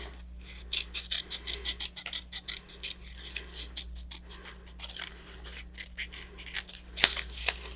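Scissors snipping around a paper shape by hand, a close, steady series of crisp rhythmic cuts at a quiet level with light paper rustle, no talking.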